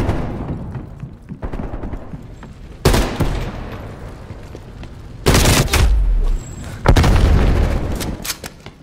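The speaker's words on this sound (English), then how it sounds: "Your proximity mine has been destroyed." Proximity mine blasts and gunfire in Call of Duty: Black Ops Cold War multiplayer, several loud booming bursts separated by quieter stretches of battle noise.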